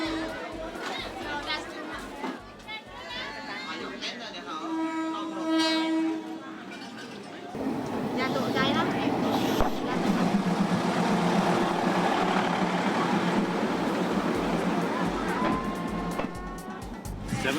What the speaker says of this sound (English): Oh, it's time for the train?